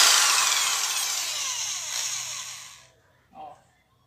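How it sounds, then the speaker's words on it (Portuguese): Electric drill boring a hole through an orchid pot, a loud continuous whine that slowly fades over about three seconds, then stops, followed by a brief knock. "Vamos fazer o furo aqui."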